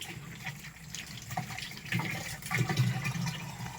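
Tap water runs and splashes into a container, arriving muddy after a long wait, with a gurgling flow that grows louder and fuller toward the end, no speech over it.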